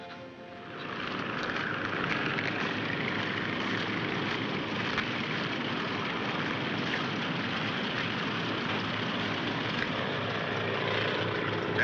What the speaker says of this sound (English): Gentlemen, this is an airplane.